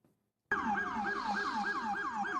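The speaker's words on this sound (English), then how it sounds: "Flashing sirens and whirling choppers." Emergency vehicle siren wailing loud and close, a rapid repeating yelp cycling several times after a sudden start from near silence.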